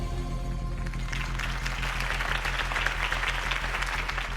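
Applause from a crowd swells after a moment and holds steady, a dense clapping wash layered over sustained low musical tones, in Batman: The Telltale Series.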